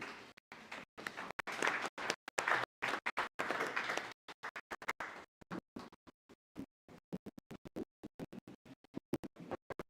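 Audience applause welcoming the president at a business summit: a dense burst of clapping for about four seconds, then thinning into scattered individual claps that trail off, moderately loud and without talk.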